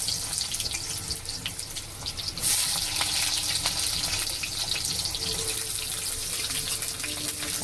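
Thick-cut onions frying in very hot oil in a heated pan while cooking mushrooms and capsicum, with a steady broadband sizzle throughout that rises slightly louder about two seconds in and then holds, close and continuous with no talk.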